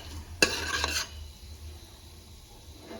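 Chicken biryani mixture being stirred in a pan, a loud scraping, rasping burst of about half a second as the utensil works through the frying mix, then quiet with faint background hiss.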